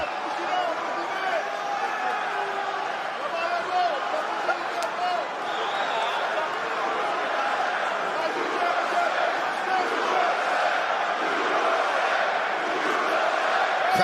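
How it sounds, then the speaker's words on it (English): A large UFC arena crowd keeps up a dense, steady roar and cheers through the opening of a lightweight bout, with a commentator's voice running over it throughout. "Crowd getting behind the American early on."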